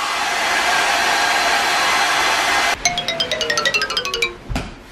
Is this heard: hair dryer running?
yes